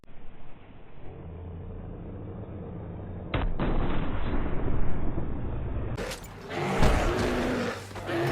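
Gunfire aimed at a bear in the video game Red Dead Redemption 2, with a sharp report around three seconds and heavier blasts near six seconds over a steady rumbling game background.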